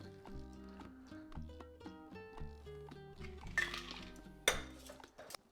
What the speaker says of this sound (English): Let's make a double strain.